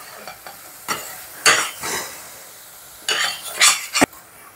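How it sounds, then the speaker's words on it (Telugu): Soya granule keema with spices frying in a pan, stirred in several bursts of scraping and sizzling, with spoon clinks against the pan and short quiet gaps between strokes. "అండ్ ఇది ఇప్పుడు బాగా ఫ్రై చేసుకుందాము."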